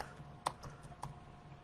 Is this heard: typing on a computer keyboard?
yes